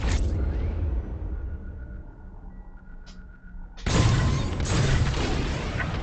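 Bombs exploding in the Star Wars Squadrons game: a heavy boom fades into a low rumble, then after a brief lull a second loud, broad blast erupts and roars on.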